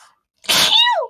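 A single sharp sneeze, loud and close, with a brief nasal intake just before it and a falling tail at the end.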